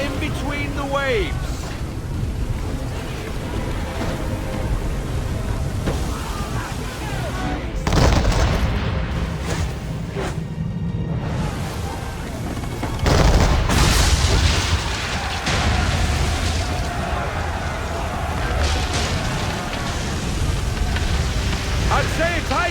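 Heavy ship cannon fire and storm roar from Assassin's Creed, with broad booming bursts around eight and thirteen seconds over constant loud wind, rain and waves, plus voices in the mix.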